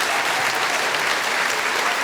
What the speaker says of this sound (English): Can we please give one more round of applause to Dr. Christopher Schmidt